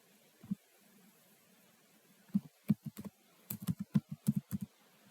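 Soft keystrokes on a computer keyboard while writing Python code, first a single tap, then a quick irregular burst of a dozen or so clicks, close and quiet in an otherwise still room.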